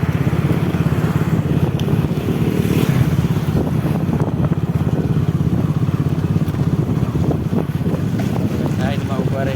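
A scooter runs on a road at a riverfront with a steady low engine drone and heavy wind rush across the microphone throughout.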